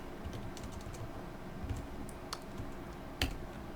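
Faint, sparse keystrokes on a computer keyboard while entering mod code for Hearts of Iron IV, a few scattered soft clicks with one sharper tap near the end over a low background hum.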